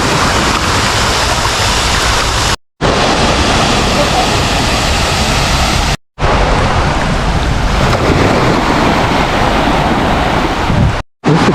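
Surf rolling continuously in an artificial sea wave pool at Siam Amazing Park water park, a steady loud wash of breaking water with a few brief cutouts.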